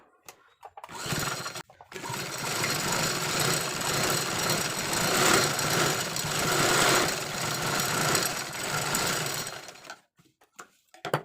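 A sewing machine runs steadily for about eight seconds while stitching a seam in old denim jeans, a continuous close mechanical whir with short pauses at the start and the end.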